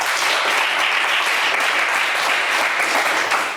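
A studio audience applauds during a French television game show, a dense and continuous wash of clapping that stays steady throughout.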